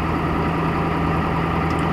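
A Ford engine idles steadily after a cold start at -40 degrees, a loud, even low rumble with a constant hum, nearby and alone for the whole stretch.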